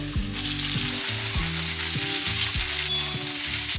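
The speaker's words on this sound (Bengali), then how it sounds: "তেলের মধ্যে পটলগুলোকে ভেজে নিই" Pointed gourd (potol) pieces frying in oil produce a continuous, moderately loud sizzle, with steady musical tones running underneath.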